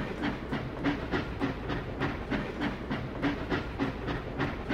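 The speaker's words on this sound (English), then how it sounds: "We need to send the train to the depot." A train rolls steadily along the track in a LEGO train puzzle video game, giving a continuous rumbling run with regular clickety-clack beats and a soft hiss, moderately loud and heard alone without talk.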